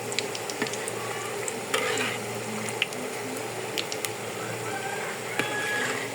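Egg, potato and flour chops fry in oil over low heat, giving a continuous close bubbling sizzle with small crackles and an occasional scrape from turning them in the pan.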